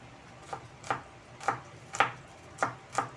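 A knife slices a white onion into long strips on a board, six crisp, evenly spaced cuts heard close up with no talking.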